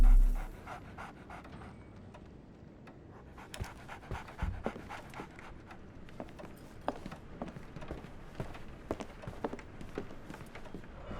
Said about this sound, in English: So, Barnes has a dog now. Who's a good boy?